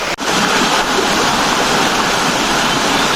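Talusob Falls in Magsaysay, Davao pours in a steady, dense roar of falling water, loud and close, unbroken apart from a brief dip near the start, with no voices.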